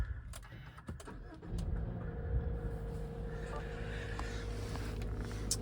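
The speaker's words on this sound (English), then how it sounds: "Inside and start the vehicle." A Subaru Forester 2.0 XE Premium Lineartronic is started from inside the cabin: a few clicks and a short crank, then the engine catches and settles into a quiet, steady idle.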